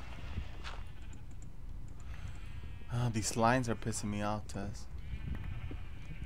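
A short burst of bleating from a Minecraft sheep rises midway over a quiet game background, while a person talks around it.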